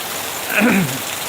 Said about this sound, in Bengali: প্রচণ্ড এই বৃষ্টিতে আমরা আসলে সবাই একটু পানি আর পানি, চারিদিকে পানিতে ভরে গেছে।